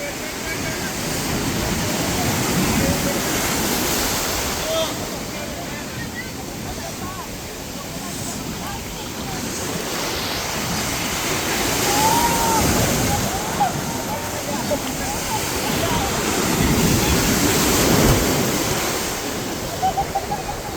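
Strong sea waves crashing on Puri beach, a continuous loud roar of surf with swelling surges, and people talking throughout.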